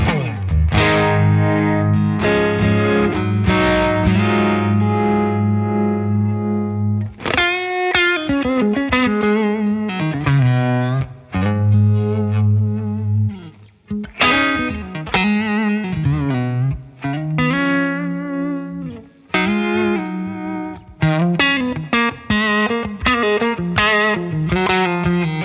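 An electric guitar runs through a Jam Pedals Harmonious Monk tremolo in harmonic mode, strumming sustained chords and lead phrases with a shimmering, pulsing modulation, loud and close throughout.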